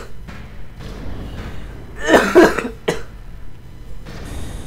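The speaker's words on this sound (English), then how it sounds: "so I'm about to cough." A sick person coughs a few times in quick succession, harsh and close, followed by one shorter cough, with quiet room noise before and after.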